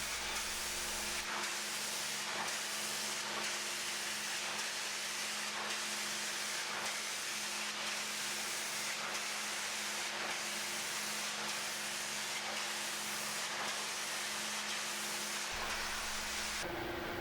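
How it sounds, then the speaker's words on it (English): A power washer sprays a large-format UV printer's screen mesh, making a steady loud hiss with a rhythmic pulsing as the nozzle sweeps back and forth, held at close range throughout. "Using the power washer, again starting from the bottom, working your way to the top of the screen in a left to right manner, power wash the mesh"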